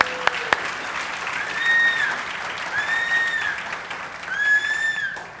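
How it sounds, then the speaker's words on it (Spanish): Sustained applause from a church congregation during a service fills the space, with a few whistles rising above the clapping. "Dele fuertes aplausos al Señor."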